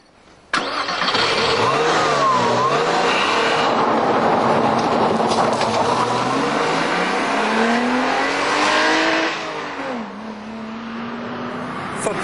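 A loud Porsche Boxster 2.5 flat-six engine starts and revs hard, pitch climbing through several gear changes as the car accelerates, then easing off at the end.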